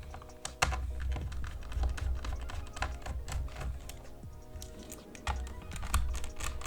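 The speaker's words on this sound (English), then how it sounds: "So first we're gonna unscrew this" Small screws come out of the bottom of an HP Essentials 14 laptop as it is taken apart for a RAM upgrade, giving a run of close, light clicking and tapping taps at an uneven, busy rhythm, with no voices.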